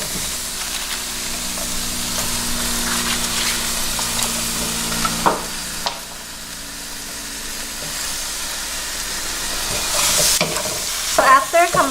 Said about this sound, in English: want to stir this up for about 4 to 5 minutes on medium heat because the squid and scallops will take a while to cook